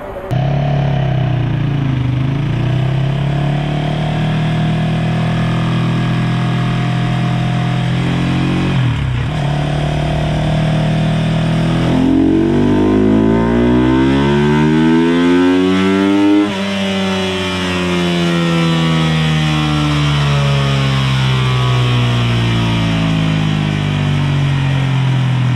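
A tuned SCK MMG motorcycle runs on a Dynojet dyno, its engine droning loud and steady, then revving up in long rising sweeps that peak and drop back before climbing again.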